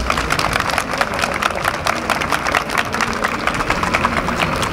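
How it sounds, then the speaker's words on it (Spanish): Dense, steady applause from a live event audience, a continuous wash of many hands clapping at even loudness throughout, with no voices rising above it. "Les pido un aplauso, por favor."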